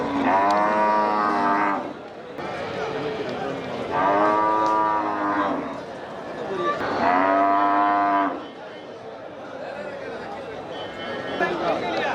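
Dairy cows at a cattle market in Melapalayam give three long, loud moos spaced a few seconds apart, over a constant crowded background hum.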